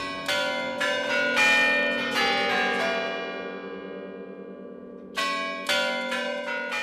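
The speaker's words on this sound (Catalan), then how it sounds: "Amb prou campanes pot tocar qualsevol tonada." Bells of the Spasskaya (Saviour) Tower in the Moscow Kremlin, driven by a musical cylinder, ring out a melody: a sequence of loud, resonant struck tones with long ringing decay, a pause, then the tune resumes, with no voices.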